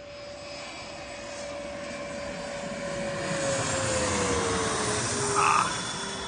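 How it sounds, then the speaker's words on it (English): A loud airplane engine roars steadily overhead on landing approach in DC, its tone slowly shifting as it passes, with a constant whine over a broad rumble and no talking. "Oh, here comes a plane. I'm watching planes land."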